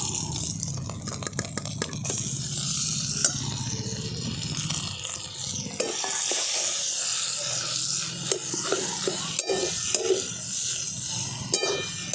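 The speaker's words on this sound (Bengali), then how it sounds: "এরপরে দিয়ে দিচ্ছি বেটে রাখা ডুমুর আর ছোলার ডালটা।" Ground fig and chana dal paste frying in a pan with ginger and green chilli paste, a continuous hissing sizzle broken by scraping stirs and small ticks and clicks.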